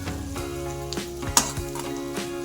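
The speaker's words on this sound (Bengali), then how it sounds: "পেঁয়াজটা ভাজা হয়ে যাক।" Onions sizzle and fry steadily in a wok in a home kitchen, with a continuous hiss broken by a few light stirring clinks and one sharp utensil tap, and no voices.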